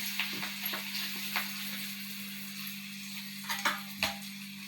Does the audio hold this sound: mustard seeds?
yes